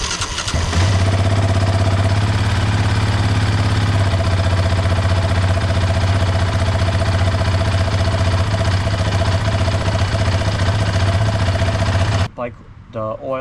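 A Yamaha Raptor 700 ATV engine, freshly serviced with an oil change, starts up and runs at a steady, loud idle with a deep low thrum and mechanical clatter for about twelve seconds before cutting off abruptly.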